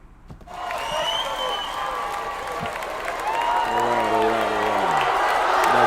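Crowd applause and cheering that starts suddenly and builds into a dense wash of clapping, with whoops and shouting voices rising near the end.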